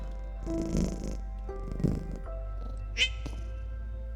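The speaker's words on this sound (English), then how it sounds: "That was just my cat, Sam." A pet cat meows several times close by, short separate calls with gaps between them, indoors against a low steady hum.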